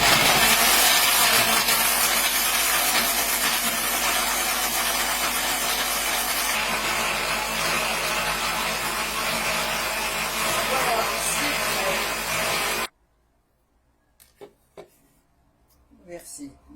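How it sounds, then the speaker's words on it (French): Small, simple kitchen blender whirring loudly and steadily as it purées bananas for a banana almond flan, then cutting off abruptly, followed by faint clinks and handling noises. "Un simple mixeur, non, pas besoin d'un mixeur sophistiqué, mais les tout petits pour les enfants sont aussi très bien."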